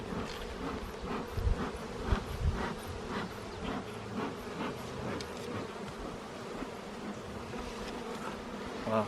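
Bees swarm in a dense, steady buzz around an open beehive during an inspection, many insects humming close by with faint rustling.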